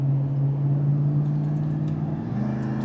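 A Lexus GX460 SUV fitted with a throttle pedal controller accelerates onto a freeway, a steady low engine hum inside the cabin with the pitch shifting upward near the end.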